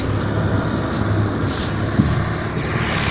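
A vehicle fitted with a Moskvich engine drives along a sandy forest road; a steady, loud engine drone with rumbling road noise runs throughout, with a brief knock near the middle.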